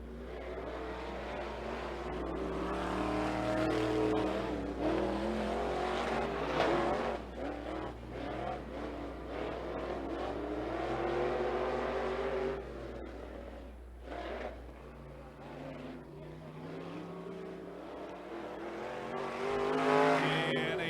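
IMCA Sport Mod race cars run laps at Sunset Speedway, engines roaring and revving continuously at close range, with surging passes and occasional tire noise over a constant low drone.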